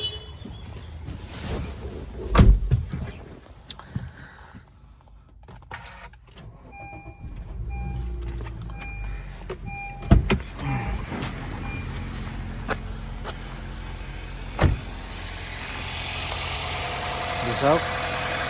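A Honda City with a CVT gearbox starting from cold and settling into a steady, slightly high idle. Brief clicks and jangles come before the start, and a person talks over the ongoing engine hum.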